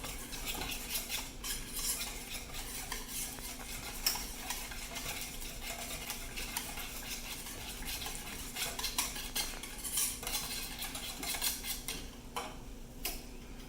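Molten lava cake batter being stirred in a bowl, a steady scraping and clinking of utensil against the dish, continuous and close, with faint kitchen background.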